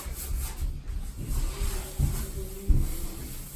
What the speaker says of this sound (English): we're just moving the material here, giving it a nice quick scrub